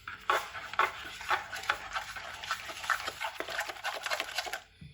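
Yogurt spice marinade with kalonji and food colouring being mixed in a bowl, heard as busy, close scraping and stirring strokes with light clinks in an irregular rhythm.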